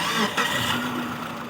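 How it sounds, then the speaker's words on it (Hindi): Mitsubishi Lancer 4G15 engine, freshly overhauled, cranking and catching into a steady idle, a broadband mechanical drone with a brief surge near the start, close and fairly loud with no talk. "इंजन का साउंड भी सुनवाते ह"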